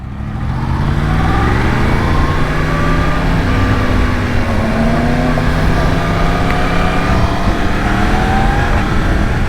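A Yamaha MT-10 motorcycle engine pulls hard under acceleration, a loud, close, continuous roar with rising and falling pitch sweeps as it revs through the gears, mixed with heavy wind noise.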